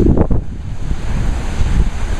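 Ocean waves surge at high tide during a blizzard with coastal flooding, a steady roaring surf heavily buffeted by wind noise on the microphone.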